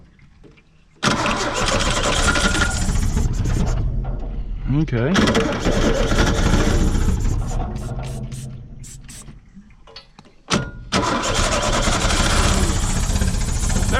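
A 1970 Opel that sat for 41 years: the starter cranks, then the engine catches and runs loudly and unevenly, revving and surging, briefly cutting out before restarting, while someone talks over it.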